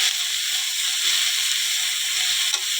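Pihri mushrooms added to golden-brown fried onions give off a steady, loud sizzle and hiss, close by and alone.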